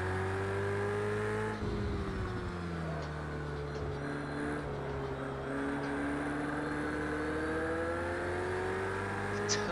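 A Ferrari racing in Project Cars 2 gives off a steady, high turbo whine over a droning engine, the pitch climbing and shifting as the car accelerates, loud and continuous with no talk.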